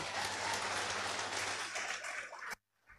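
Audience applause at a company presentation, dense loud clapping that holds steady for about two and a half seconds, then cuts off abruptly into near silence with a faint trailing clap.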